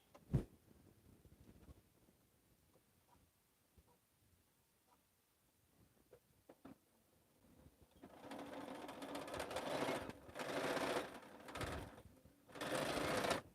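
A home sewing machine stitches a quilt, starting with faint scattered clicks and handling noises, then several loud bursts of rapid, whirring stitching in the second half, with short pauses between runs.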